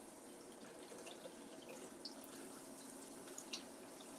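Rice is rinsed under a running faucet with fingers stirring the grains, giving a quiet, steady stream of water with faint splashes and small drips throughout.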